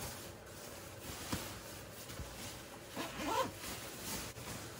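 The zipper on a top layer of The North Face One Bag sleeping bag is pulled open, giving soft ratcheting zips and fabric rustle, quiet and close with a short, firmer zip pull near the end.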